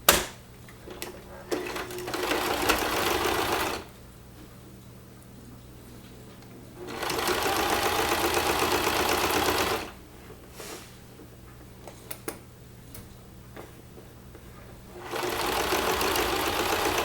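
Sewing machine stitching purse seams together in bursts of steady rapid whirring, several seconds each, separated by quiet pauses, close and clear with no talk.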